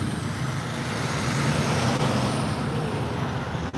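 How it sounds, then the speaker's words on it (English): A large truck rumbles past close by, a steady low engine drone over broadband road noise with no voices. "Here comes a whitey truck."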